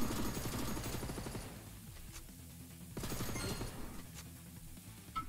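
Rapid gunfire in the Dead Containment zombie shooter game, two bursts of fast repeated shots separated by a brief lull, fairly quiet overall with no talk.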